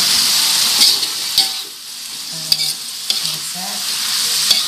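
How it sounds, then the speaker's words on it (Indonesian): Sweet soy sauce sizzling in a hot wok during a stir-fry of vegetables for fried rice vermicelli, a steady bright hiss with a few spatula scrapes and knocks, close and loud, with no talking. "Kasih kecapnya di wajannya ya, biar matang, jadi enak."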